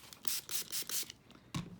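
A spray bottle hisses in four quick, rhythmic spritzes, then a sharper spritz after a short pause, all close and fairly quiet.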